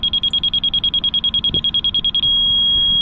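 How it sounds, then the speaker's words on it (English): A laser receiver clamped to a level on a retaining-wall guard rail job beeps in rapid, evenly pulsed tones, then switches to a solid continuous beep once it hits the level line, loud and close. "That solid beep is at that line."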